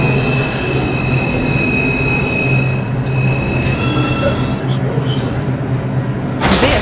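An R142 5 train on the New York City subway runs steadily toward Manhattan, a loud continuous rumble with high wheel squeal tones throughout and a sharp burst of noise near the end.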